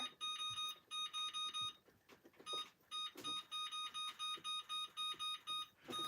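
An oven timer beeps repeatedly in quick bursts of short electronic tones as it is set in a home kitchen while baking, with soft handling noises in between.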